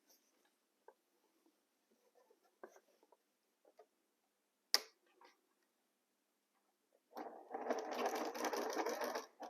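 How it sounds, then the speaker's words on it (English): Faint scattered taps and small handling noises give way to a sewing machine running steadily near the end, stitching a quarter-inch seam with a fast, even buzzing rhythm. "let's sew a 1/4 inch seams allowance again"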